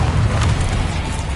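A Confringo blasting spell goes off in Hogwarts Legacy on PS5, a loud, dense booming roar with heavy low rumble that fills the whole moment without a break.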